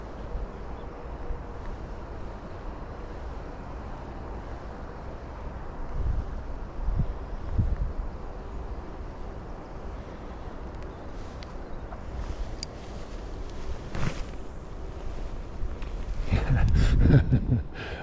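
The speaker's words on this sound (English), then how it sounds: "The wind's just taking every cast." Wind buffeting the microphone outdoors during lure fishing, a continuous low rumbling roar with gusts swelling and fading, strongest near the end, with no talk over it.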